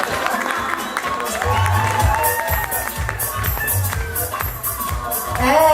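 At a Miss Rock'n Guinguette pageant in Harmignies, an audience applauds and cheers a contestant named third runner-up, with steady clapping and shouts throughout and voices talking over it.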